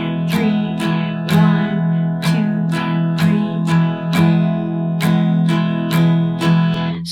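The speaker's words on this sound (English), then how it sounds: "So I'm going to show you a very easy strum for 3/4 time." Guitar strumming in 3/4 waltz time, a steady run of bright full-chord strums with heavier downstrokes marking each bar, loud and close, played alone without speech.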